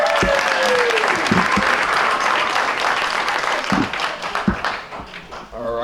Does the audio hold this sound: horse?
no